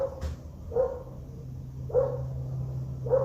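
A dog barks in three evenly spaced single barks, somewhat distant, over a steady low hum with no talking, in Medellín, Colombia, with roosters nearby.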